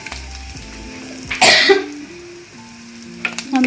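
Curry leaves dropped into hot oil for a Kerala moru curry crackle and sizzle in a sharp burst, then settle into a low, steady frying hiss.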